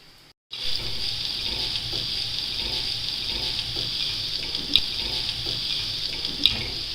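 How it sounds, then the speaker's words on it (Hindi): Finely chopped seedless dates dropped into ghee in a kadhai, a sudden start into a steady hiss of sizzling with faint scraping and a couple of sharp clicks, close and without voices. "इसको अभी मैं डालूंगी ये घी वाली कढ़ाई में"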